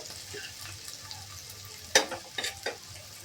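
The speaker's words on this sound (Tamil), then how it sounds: "பெரிய வெங்காயம் பொடியை கட் பண்ணி போட்டு வதங்குது" Finely chopped onions sauté in a pan for egg rice under a soft continuous sizzle, with a few sharp scraping stirs of a spatula near the end and no talking.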